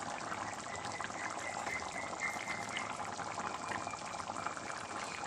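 A pot bubbles at a steady simmer, a soft continuous gurgling and hiss of boiling liquid, fairly quiet and close.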